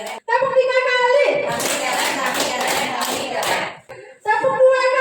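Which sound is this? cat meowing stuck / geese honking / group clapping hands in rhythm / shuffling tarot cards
group clapping hands in rhythm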